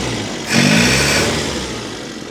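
A 1937 Austin Seven Ruby engine idles, then revs up sharply and holds a higher throbbing pitch before easing back down, close and fairly loud.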